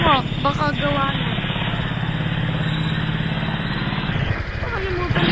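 A motorcycle engine runs steadily up close, a continuous throbbing drone that carries on throughout while people talk over it.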